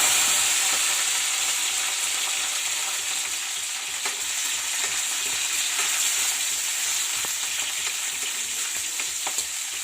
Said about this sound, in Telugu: ఇప్పుడు పచ్చిమిరపకాయలు వేసుకోవాలి.